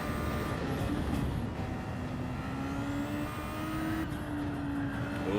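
A Cosworth-powered Super Formula single-seater racing at Watkins Glen in Gran Turismo 7, its engine droning steadily at high revs with a rising whining pitch and a quick shift near the end, loud and close throughout.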